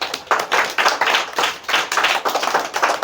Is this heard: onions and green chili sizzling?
no